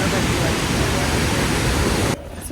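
Iguazu Falls on the Argentina–Brazil border gives a steady, loud, broadband roar of rushing water for about two seconds before cutting to quieter ambience.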